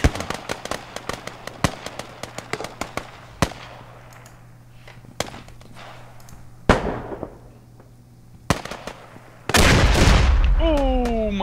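Gunfire in a shooting video game: a rapid series of sharp, loud shots at irregular intervals, some in quick clusters, ending in a sustained, heavy burst of fire.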